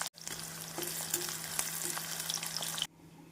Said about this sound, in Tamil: நாம் அனைத்து வெங்காயத்தையும் பொரித்து எடுத்து விடலாம்